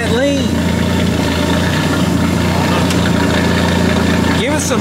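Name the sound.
turbocharged Ford F150 engine running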